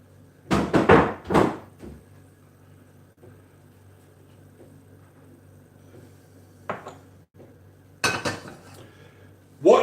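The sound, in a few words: cutting board being moved aside in a kitchen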